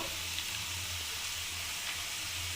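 Kuchu nimki, a fried Bengali snack, sizzles steadily in hot oil in a wok, a continuous close, even frying hiss with no talk.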